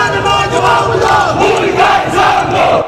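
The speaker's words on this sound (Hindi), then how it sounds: "पीओके के मुजफ्फराबाद में पाकिस्तानी सरकार और वहां की फौज के खिलाफ जमकर नारेबाजी की गई" Dense crowd of protesters in Muzaffarabad, Pakistan-administered Kashmir, shouting slogans against the Pakistani government and army; a loud, continuous roar of many voices with rhythmic rises, close and filling the scene.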